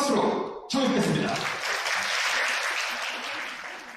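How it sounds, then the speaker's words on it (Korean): Applause erupts at a wedding ceremony, a sudden loud burst of clapping from the guests after a brief quiet gap, holding steady and full throughout before easing slightly toward the end. "큰 박수로 청해드리겠습니다"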